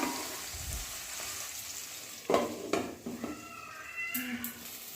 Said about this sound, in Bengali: বেগুনগুলোকেও হালকা নাড়াচাড়া করে ঢাকনা দিয়ে লাল লাল করে ভেজে নিচ্ছি